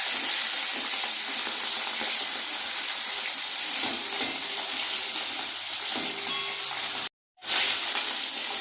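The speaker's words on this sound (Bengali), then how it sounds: "মাছটা ভাজা হয়ে গেছে" Khoira fish frying in a pan, a steady bright sizzle and hiss of hot oil throughout, briefly cutting out near the end before resuming.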